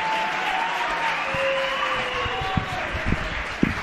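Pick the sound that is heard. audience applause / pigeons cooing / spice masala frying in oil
audience applause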